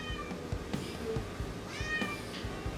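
A pet cat named Poodle meows several times in a garage, with short, clear calls spread over a few seconds against a steady background hum and some small knocks.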